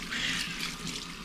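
Tap water runs steadily into a sink for rinsing fresh trout, a close, continuous hissing splash with no voices.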